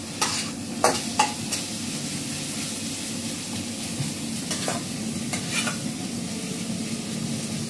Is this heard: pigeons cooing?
no